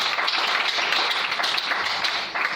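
A church congregation applauds and cheers the Lord in steady, sustained clapping that fills the room at moderate loudness, with no clear speech over it.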